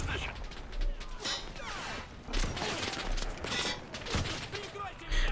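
Gunfire rattles in the Enlisted shooter game as rapid bursts and scattered single shots crack repeatedly, mixed with mechanical clatter and a voice talking throughout.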